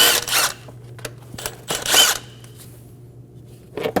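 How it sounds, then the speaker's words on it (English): Ratchet or power driver with a 10mm socket working the two nuts off the top engine cover of a 2008-2015 Scion xB 2.4L four-cylinder, giving a few short, close mechanical bursts separated by quiet gaps. "remove the two nuts for the top cover."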